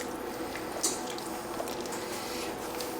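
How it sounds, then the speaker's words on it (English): Split pea soup with diced ham is stirred in a pot, giving soft, wet squishing and occasional drips that are steady and close, with no talking. "Give this a stir."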